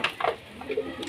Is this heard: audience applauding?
no